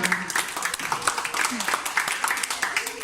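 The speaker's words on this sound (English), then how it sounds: "Can you please give AJ not just a round of applause, but a standing ovation?" An audience at a speech evaluation session applauds as a standing ovation gets going. The clapping forms a steady wash of moderate loudness with talking mixed in over it.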